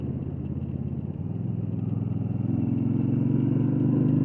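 A custom motorcycle engine runs close by with a steady low rumbling idle that grows slightly louder and rougher toward the end, with no talk over it.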